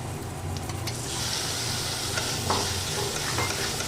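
Chicken mince sizzles and fries in a pan with ground coriander and cumin, a steady close hiss with scraping stirs throughout, no voices.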